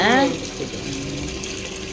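Water running steadily from a pipe while fish is washed, a close continuous splashing rush with a voice briefly heard at the start.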